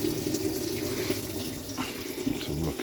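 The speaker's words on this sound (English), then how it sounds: "we're filling, and I can see water running and dripping down there" Water runs steadily and drips from a leaking filler pipe while a tank fills at a building site in Thailand, a continuous close splashing trickle with no talk.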